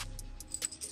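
A bunch of keys jangles faintly beside a Ford Mustang II fitted with a vintage alarm system, a few brief metallic tinkles spread across one second, close but quiet.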